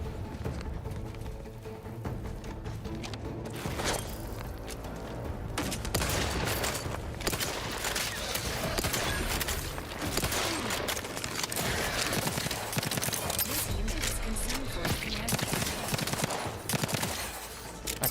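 Burst-fire weapon shots in The Outer Worlds 2, loud repeated volleys over a constant dense game soundscape lasting the whole stretch, the bursts coming in clusters without pause.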